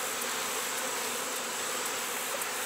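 Honeybees from a combined colony buzz in a dense, continuous hum, close and steady throughout with no voices.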